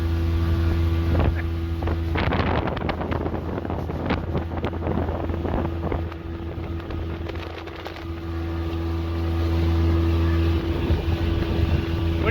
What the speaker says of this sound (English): Boat's going great.